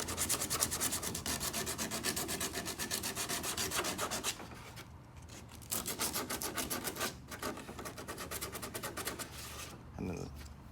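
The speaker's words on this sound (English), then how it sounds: "basically, you're just rough sanding," Rough sanding works a surface down to its contour with fast, rhythmic rubbing strokes, dense and steady at first, then broken into shorter bursts with brief pauses. A voice talks faintly over the sanding.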